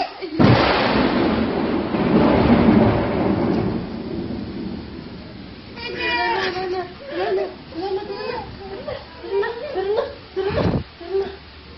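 A long, loud rumble of thunder rolls through a rainstorm for several seconds, then fades as rain continues and an adult speaks softly and a small child whimpers.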